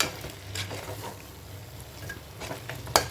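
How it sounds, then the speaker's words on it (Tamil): Mutton and masala are stirred in a frying pan, giving a low, soft sizzle with scraping stirs and a sharper clink near the end. "இது மட்டன் மசாலா ரெண்டையும் சேர்த்து நல்லா மிக்ஸ் கொடுத்துக்குவோம்"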